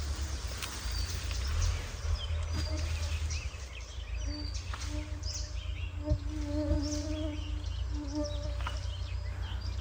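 Mosquitoes whine and buzz around in a taiga forest, a thin continuous insect drone close by with faint bird calls in the distance and steady low background noise.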